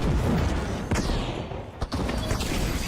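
A frag grenade goes off in the video game The Finals. Heavy booming blasts land close and loud, with two sharp bursts about a second apart over a dense rumbling din.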